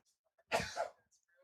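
A single short, forceful sneeze bursts out close by in a quiet room, over in under half a second.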